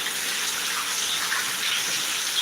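Summer rain pours down steadily, a continuous broad hiss of falling water close by with no breaks or speech.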